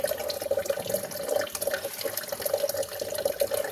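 Tap water runs steadily into a bottle, a continuous splashing, gurgling stream with slight fluctuations in pitch as it fills, close and fairly loud, with no talking.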